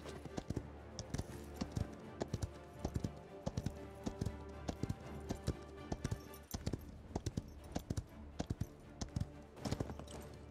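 Hooves of a pale horse clip-clop steadily at a walk, a regular rhythm of fairly close knocks over a faint low background hum.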